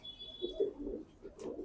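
Pigeons settled in a cage coo softly in a series of low, rounded calls, faint and close, with a thin high tone hanging in the background early on and no talking.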